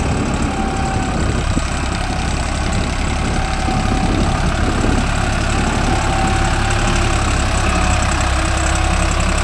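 Deutz-Fahr Agrolux 50 hp tractor engine running steadily at close range, a continuous loud diesel drone and rumble with no talk over it.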